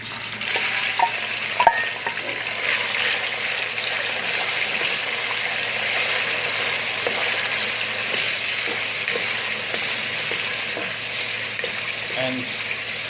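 Pork marinated in soy sauce and vinegar fries in a pan with a loud, dense, continuous sizzle that holds steady throughout, marked by a single sharp knock early on and a few faint clatters.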